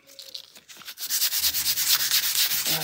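A DVD disc is scraped hard against a wall, giving a run of rough, rhythmic grinding strokes that grow louder and steadier after a quieter start, close and alone.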